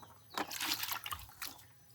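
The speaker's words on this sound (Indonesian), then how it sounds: "Jadi kita siram secukupnya saja, tidak perlu sampai harus meluber airnya." Water from watering a potted plant trickling and draining through the holes in the pot, a few soft splashing drips and gurgles, quiet and close with no talk.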